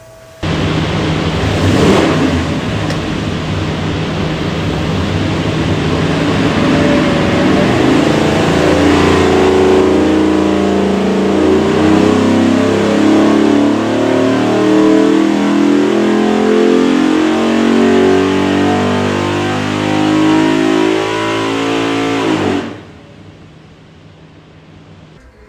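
A 392ci Gen III Hemi V8 on a dyno, bound for a '73 Dodge pickup, roars at sustained high revs with a climbing, throbbing tone for over twenty seconds, loud and close, then cuts off abruptly.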